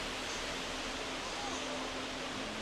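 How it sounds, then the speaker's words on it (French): A huge indoor waterfall inside the Dubai Mall gives off a steady, even rush of falling water. The wash is broadband and fairly quiet and stays constant throughout, with no talk over it. "Des énormes cascades quand on rentre dans le Dubai Mall"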